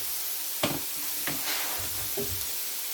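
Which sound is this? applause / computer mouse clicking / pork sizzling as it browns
pork sizzling as it browns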